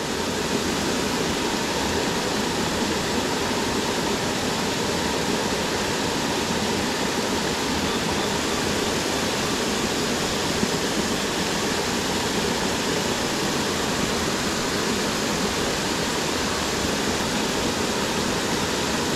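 Buderim Falls pours in a dense, steady roar of falling water, close and unbroken, with no voices.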